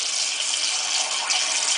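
Tap water runs steadily over freshly cut potatoes being washed, a loud, even rush of gushing water with no speech.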